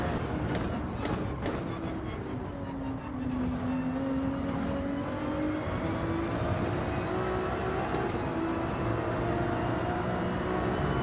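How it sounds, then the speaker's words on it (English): A race car engine in a racing video game revs continuously and climbs through a long rev range, with rising and falling whine and other cars' engines droning underneath, loud and sustained. "This car goes properly long through the rev range."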